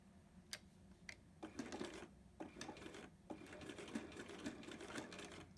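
A sewing machine back stitches along a seam on a zipper pouch, with faint close rapid mechanical clattering in short uneven bursts and sharp ticks between them.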